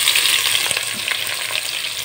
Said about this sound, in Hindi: अब इसमें हम डालेंगे 2 अदद प्याज